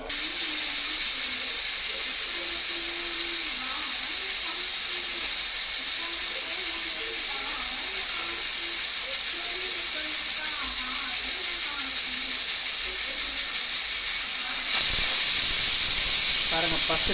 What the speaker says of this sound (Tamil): விசில் வந்துச்சு.